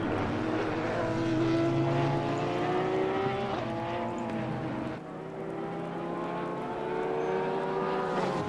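GT3 race cars, a Bentley and an Audi, roar around Zolder in Assetto Corsa Competizione, with engine notes rising and falling through gear changes and a brief dip near the middle, loud and continuous without talk.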